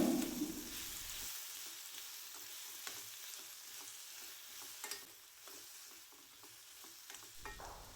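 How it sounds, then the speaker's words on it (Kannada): Tomato, cumin and coriander leaves frying in a pan for a field bean and country egg curry, a soft sizzle under scattered scraping stirs of a spoon, close and fairly quiet. "ಸ್ವಲ್ಪ ಕೊತ್ತಂಬರಿ ಸೊಪ್ಪನ್ನು ಸೇರಿಸ್ಕೊಂಡು ಮಿಕ್ಸ್ ಮಾಡ್ಕೊಳ್ತಾ ಇದ್ದೀನಿ"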